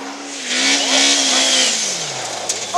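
A rally car engine roars past at close range on stage SS2 of the 2011 Lõuna-Eesti Rally, rising then falling in pitch as it speeds by, with a brief squeal near the end.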